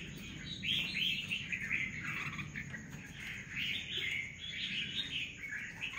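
A red-whiskered bulbul chirps repeatedly inside a trap cage, bright warbling phrases rising and falling over a steady insect and cricket hum in the background.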